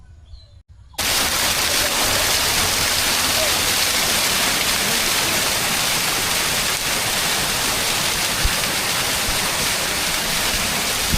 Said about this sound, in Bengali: ঝর্নার যদি একটু শব্দটা আপনাদের শুনাই আপনারা তো শুনে সেটার মানে সৌন্দর্য উপলব্ধি করতে পারবেন